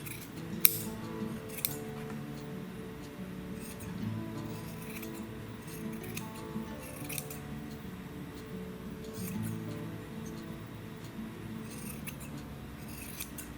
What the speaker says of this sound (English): Trim the corners and some of the bulk we have here on the edge.